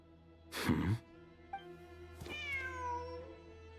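A cat in Genshin Impact gives a loud, close meow, followed after a short pause by a longer, rising-then-falling meow, over a low steady game background.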